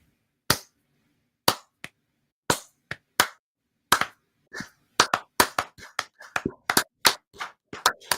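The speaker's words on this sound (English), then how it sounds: "I think we owe this man a slow clap" A slow clap by one person, starting with sharp isolated hand claps spaced about a second apart, then speeding up into a quicker, denser run of crisp claps, close and clear against silence.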